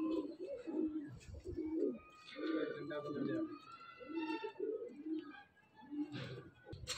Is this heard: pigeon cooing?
yes